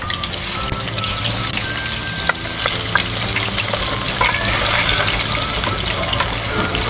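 Marinated chicken pieces frying in hot oil for crispy fried chicken, giving a loud, steady sizzle with crackling pops throughout and occasional clinks from stirring.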